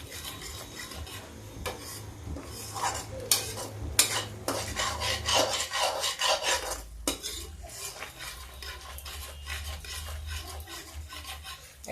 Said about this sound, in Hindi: इसको मैं ऐसे पका दूंगी, चलाते रहेंगे, पक जाएगा।